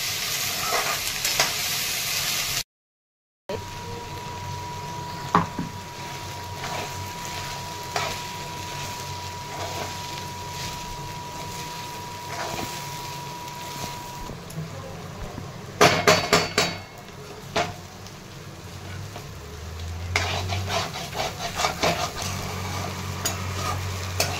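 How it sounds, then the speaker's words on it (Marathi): Okra sautéing in oil in a pan, a soft continuous sizzle broken by a few sharp clinks and scrapes of a spoon stirring against the pan, close and fairly quiet. "आधी छान परतून घ्यायचं तेलामध्ये."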